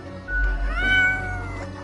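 A cat meows in a single drawn-out, rising and falling cry, close and clear over a low steady background hum, in the game Death and Taxes.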